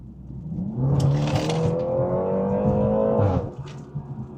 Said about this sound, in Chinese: 来空旷的道路，我来试下一脚地板油。